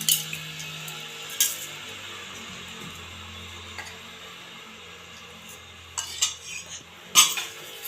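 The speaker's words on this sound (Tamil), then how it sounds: "இப்போ சாம்பாரை ஊற்றிக்கிடுவோம்." Okra and drumstick sambar is ladled into a serving vessel, a few sharp metallic clinks of a ladle against the pot over soft scraping and stirring.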